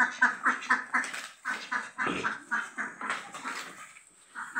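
Several Khaki Campbell ducks quack repeatedly in quick, rhythmic bursts nearby on a farm, loud and insistent, with no talking.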